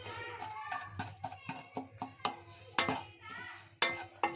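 Semolina upma is stirred in a pan, with repeated scraping strokes and soft sizzling close by while a voice talks faintly now and then.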